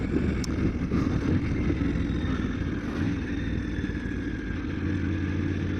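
A Triumph Tiger 900 GT Pro motorcycle rounding a roundabout in second gear at about 30 km/h, its engine a steady low rumble under heavy wind buffeting close to the rider.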